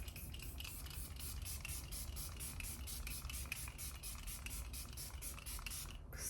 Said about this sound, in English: We're gonna go in with the Revolution Super Hold Misting Spray.